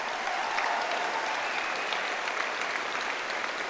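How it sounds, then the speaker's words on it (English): Steady crowd applause at a wallball handball court after a championship match, continuous and even throughout with a faint murmur of voices underneath. "Give them another big round of applause."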